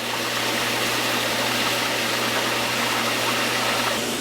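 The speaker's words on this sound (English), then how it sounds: "I'm going to turn my pump on high. And then it's just going to shoot water out the end, just like that." A pool pump running on high in backwash mode, forcing water out of the end of a drain hose as a steady, loud, broadband rushing gush with a low motor hum underneath and no speech.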